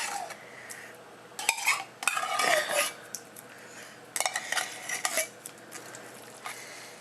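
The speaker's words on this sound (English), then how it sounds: "mixing in the green chilies and the mushroom soup" Green chilies and cream of mushroom soup are stirred together for a nacho chicken casserole, with repeated scraping and clinking of a utensil against the dish in irregular bursts, fairly close and moderate in loudness.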